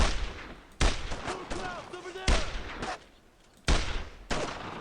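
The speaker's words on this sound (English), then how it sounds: "Suppressing fire! Covering fire! Let's keep up the fire!" Rapid bursts of gunfire in the WWII shooter Brothers in Arms: Road to Hill 30, with loud sharp volleys recurring at intervals amid battle noise and shouted commands.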